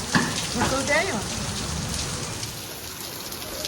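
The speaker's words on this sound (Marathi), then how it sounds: "परतीचा पाऊस बघा केवढा" Heavy late-monsoon rain pours down in a dense, continuous hiss, close and loud, with a brief voice and a few clatters at the start before the downpour carries on alone.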